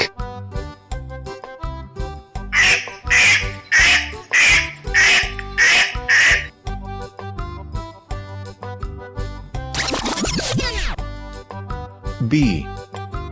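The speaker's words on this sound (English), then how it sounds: "Duck." A duck quacks five times in a quick, regular series, loud and close, over cheerful children's background music, with a sliding sound effect afterward.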